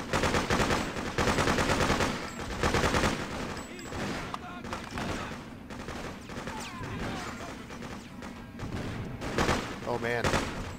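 Dense rapid gunfire and bursts of automatic weapons during an assault on a fire station in the video game Freedom Fighters, loud and continuous, with battle noise and explosions layered over someone talking.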